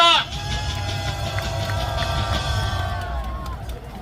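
Crowd applause and cheering at a Gwanghwamun street rally, a dense continuous wash of clapping with voices rising over it, starting just after a loud amplified shout.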